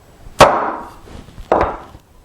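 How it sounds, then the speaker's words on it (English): A chisel is struck twice while chopping a mortise in a wooden side table leg with hand tools. Each blow is a sharp, close, loud knock followed by a brief woody ring, with about a second between them. "Now I'm going to flip it and chop the second mortise to depth."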